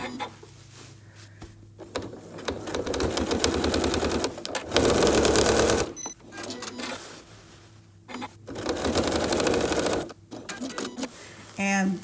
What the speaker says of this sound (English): I'll just go back and stitch another short line